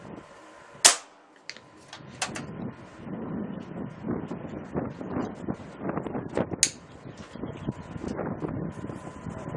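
A Benjamin Bulldog air rifle fires a 174-grain High Arc Hunter pellet outdoors: one sharp, loud crack near the start, then a second fainter impact-like pop later, with steady wind buffeting the microphone throughout.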